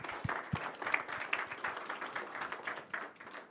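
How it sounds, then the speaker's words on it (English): A tech meetup audience claps after a cloud modernization talk in Sydney, a short, uneven burst of applause from a modest crowd with a couple of louder nearby claps early on. "Can we give one big round of applause to Anu, please?"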